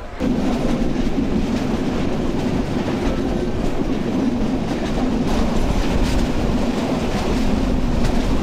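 Mohanagar Express passenger train running steadily on rails, a continuous loud rumble with low clatter and no voices throughout.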